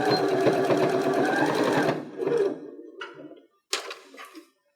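Sewing machine runs steadily for about two seconds stitching a fabric mask strap, then a short burst and a few soft clicks of handling, up close with no talk.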